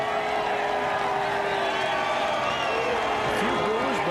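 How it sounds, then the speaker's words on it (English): Crowd noise at a NASCAR Nationwide Series race at Dover in 2010, with steady mixed cheers and a few boos after a record-setting win. The roar is sustained and dense throughout, with no spoken words. "A few boos, but for the most part, a lot of cheers"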